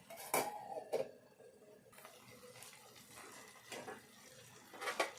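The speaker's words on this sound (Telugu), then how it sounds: "కొద్దిసేపు మూత పెట్టుకుందాం." A metal lid set down on a pan of bitter gourd and tomato curry, a few sharp clanks and rattles, the loudest near the start and end, quiet in between.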